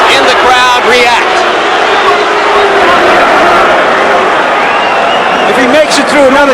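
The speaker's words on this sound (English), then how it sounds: "And the Britishers in the crowd react." A boxing crowd with British fans roars steadily through a Tyson fight, a dense, loud wall of cheering and shouting heard up close, with a commentator talking over it.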